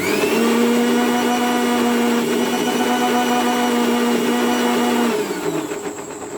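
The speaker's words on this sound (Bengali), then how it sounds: "দেখেন 1 মিনিট মতো ব্লেন্ড করছি আমি।" A blender grinds a pumpkin leaf batter with rice flour in a steady, loud motor whir that holds for about five seconds, then winds down and fades as it stops.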